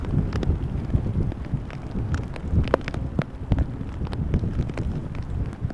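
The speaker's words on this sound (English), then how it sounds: "It is definitely a bit more windy than it was 5 minutes ago." Strong wind rumbles and gusts against the microphone at Amsterdam Schiphol Airport after Storm Ciarán, with scattered sharp knocks and rattles, loud and continuous throughout.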